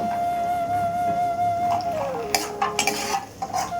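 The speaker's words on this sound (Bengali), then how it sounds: "এবার কাঁচা বাদামগুলো আমি একটু ভেজে নেব" A metal utensil scrapes and stirs raw peanuts frying in a pan, with clinks and clatters growing busier toward the end over a steady low hiss and a faint tonal whine.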